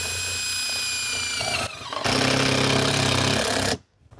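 A DeWalt power tool works on a metal roof, giving a loud, harsh, continuous grinding buzz. It cuts out briefly, starts again at full strength, then stops abruptly near the end, leaving near silence.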